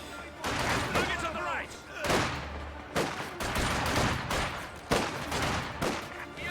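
Machine-gun fire and scattered gunshots in Company of Heroes 2, a real-time strategy game of Soviet conscripts against German grenadiers, crackling in repeated bursts throughout under a commentator's steady talk.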